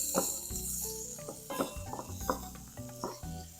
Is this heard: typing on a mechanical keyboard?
no